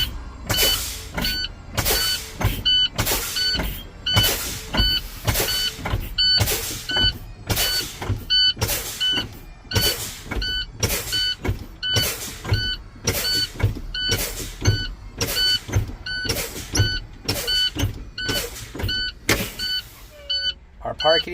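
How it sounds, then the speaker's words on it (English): Air brakes on a truck are pumped down in a CDL pre-trip check, giving about twenty regular, loud bursts of hissing air, each about a second apart, with a clicking pedal sound between them. "We're going to continue feathering the brakes down, and they should pop out at the same time between 20 and 45 PSI."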